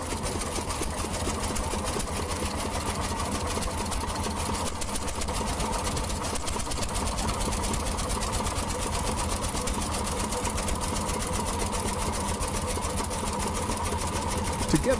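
An early compact four-stroke stationary diesel engine of the kind used in workshops and small factories runs steadily, with a fast, even mechanical clatter that stays constant and close.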